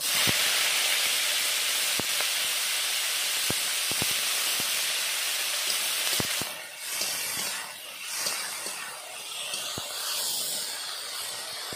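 Dried shrimp hit hot mustard oil in a pan, giving a loud, steady frying hiss that runs on, dips briefly partway through and then returns, with a few sharp clicks of utensils scattered over it.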